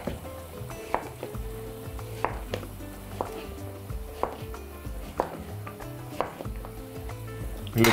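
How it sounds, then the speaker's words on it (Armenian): A zucchini is sliced on a cutting board, a series of close, sharp knife taps at an uneven rhythm against faint background music. "սա էլ կտրատում ենք սմբուկի նման"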